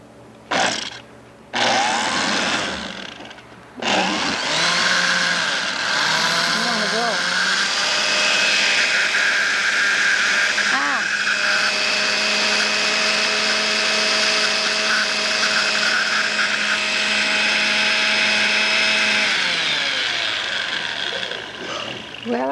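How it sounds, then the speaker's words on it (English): Kitchen blender grinding leafy greens for energy soup, a loud, steady whirring motor that strains under the load, with a few brief stops and restarts at the start before settling into continuous blending. "Can you make it, Blender? Blender starts complaining too."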